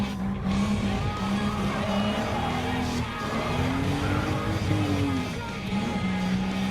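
Racing cars in Gran Turismo Sport, including a green Porsche 911 GT3 996 and a BMW M4, roar with a steady droning engine note whose pitch rises and falls slightly, loud and continuous with faint tire noise.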